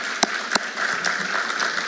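Round of applause at a school awards ceremony, steady crowd clapping with a couple of sharp louder claps near the start, moderately close and continuous.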